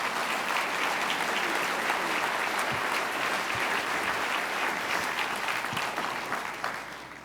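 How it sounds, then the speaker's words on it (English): Sustained, dense applause from a large conference audience at the Clinton Global Initiative 2011 session on clean cookstoves, steady and even for several seconds before tapering off at the end. "Please, a big round of applause to all of them."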